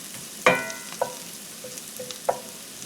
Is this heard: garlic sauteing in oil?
yes